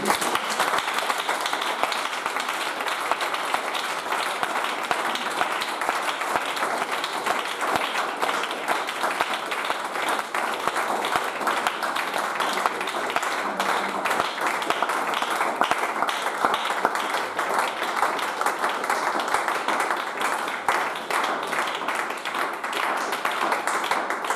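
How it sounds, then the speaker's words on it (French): A church congregation at a French-language service applauds steadily for over twenty seconds, with dense, even clapping at moderate volume and no speech over it. "On va applaudir le Seigneur juste."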